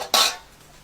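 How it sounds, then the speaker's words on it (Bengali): A metal kadai is set down on a lit stove with one short, bright clank that rings for a moment and then fades, heard alone and close by, during preparation of homemade tutti frutti. "কড়াটা একটু বসিয়ে দেব।"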